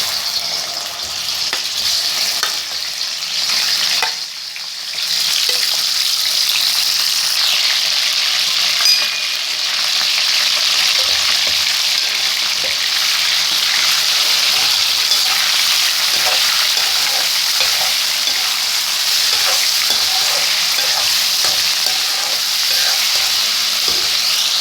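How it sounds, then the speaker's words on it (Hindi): Ginger garlic paste frying in hot oil for dhaba-style chicken karahi, a loud steady sizzle with crackling pops and occasional stirring, no voices. "लहसुन अदरक का पेस्ट डाल दिया मैंने साथ।"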